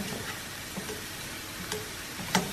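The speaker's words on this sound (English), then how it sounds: "Then I'm just gonna fry them up to cook them a little bit in a frying pan." Vegetables sizzle softly in a frying pan, a quiet, even crackle broken by a few sharp clicks and taps of a utensil.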